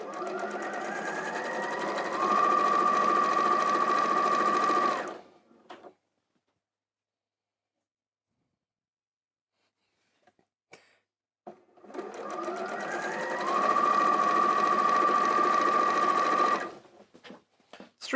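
Sewing machine stitching quilt half-square triangles in a chain, two long bursts of rapid, close, steady stitching that rise in speed, split by a silent pause with a few small handling clicks.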